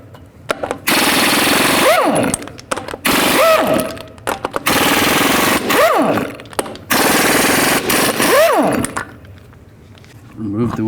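A pneumatic impact wrench fitted with a 22mm socket hammers off lug nuts from the front wheel of a 2002-06 Chevy Avalanche. It fires in several loud, sustained rattling bursts, with a rising whine between them as the tool spins up.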